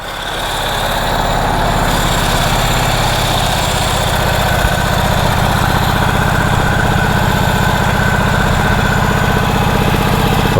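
A 108-year-old Harley-Davidson motorcycle engine runs loud and close at the National Motor Museum, giving a steady, unbroken rumbling drone with a fast throbbing pulse throughout and no talk.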